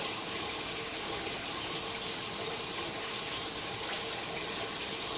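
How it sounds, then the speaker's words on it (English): Water rushing through a 4-inch sewer pipe, heard as a steady, even broadband gush close to the source with no pauses or talking. "So there's the water running by the system that we have running."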